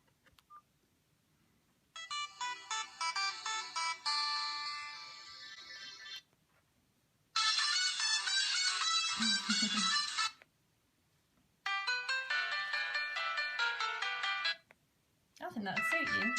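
Ringtones previewed on a Doro phone, several distinct bright electronic melodies each playing for a few seconds with brief silent gaps between them, fairly quiet and close.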